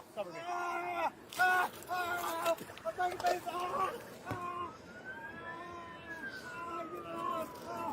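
A police car siren wails and sweeps up and down, fairly loud and nearby, during a high-speed chase, with shouting voices over it early on before the siren carries alone.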